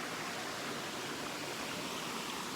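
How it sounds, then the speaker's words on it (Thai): A stream flows steadily through a natural outdoor setting, its wash of running water loud, close and unbroken, with no voices over it. "บวกกับน้ำไหลนี่ก็คือธรรมชาติมากๆเลย"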